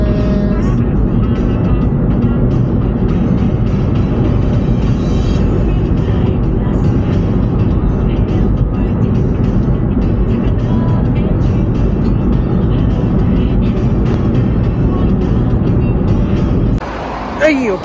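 A car drives along the road toward a football stadium, its engine and road noise forming a loud, continuous low rumble that drops away near the end.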